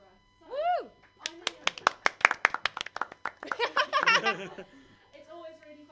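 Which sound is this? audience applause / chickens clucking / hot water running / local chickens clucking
audience applause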